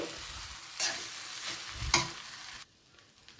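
Egg fried rice stirred in a frying pan: a continuous sizzle with two or three louder scraping strokes of the spatula, close by, then the sound drops away abruptly near the end.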